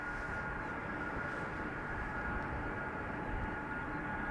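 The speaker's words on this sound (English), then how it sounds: "the Suparna 747-2 is also coming this way" A 31-year-old Suparna Boeing 747, first flown in August 1991, approaches at Amsterdam Schiphol Airport, its engines a steady, broad rumbling roar that holds constant throughout, with no voices.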